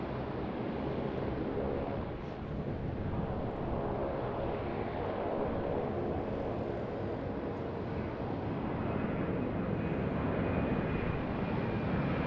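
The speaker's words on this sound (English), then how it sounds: "A350-900, the next in." An Airbus A350-900 airliner on approach to Sydney Airport, heard as a steady, broad jet roar that stays fairly constant and moderately distant throughout, with some wind across the microphone.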